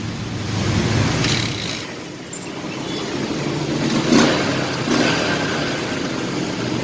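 A new Yamaha Jupiter MX 6-speed motorcycle engine runs after a kick start, a loud close steady idle with a brief dip and slight rise in revs, no talk.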